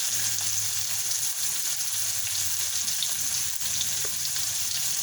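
An egg poaches in a pan with a constant close sizzle and light bubbling crackle, loud and unbroken, with no one talking.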